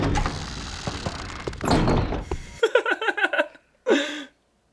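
A door opening in the video game Dark Messiah: a series of rapid wooden thunks and creaks follows a noisy stretch, then a final louder knock, all fairly close and without speech.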